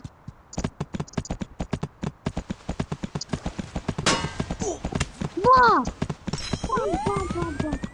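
Rapid hollow hoof clip-clops patter steadily, broken by a couple of loud whinnying neighs, from a horse in the video game Free Fire, with a faint voice speaking in the background.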